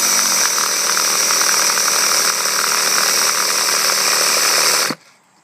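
Gas engine of a Losi LST XXL 2 1/8-scale RC monster truck cranks with a loud, close, steady buzzing rasp for about five seconds, then cuts off abruptly into near silence.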